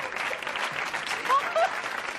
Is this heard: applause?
yes